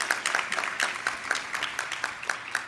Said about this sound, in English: So I can get a round of applause for them.